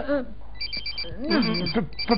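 A mobile phone rings with a repeated electronic ringtone, pulsing in short bursts over a steady hum, while a person speaks over it.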